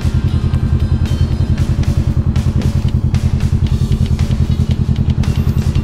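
A Kawasaki Ninja 650 motorcycle rides through heavy traffic on Roxas Boulevard, its engine a loud, steady, close throbbing hum with a few faint clicks and rattles over it.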